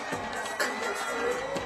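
A lively crowd cheers and shouts at a 3x3 basketball game in Abu Dhabi, a steady roar of voices running through the brief moment.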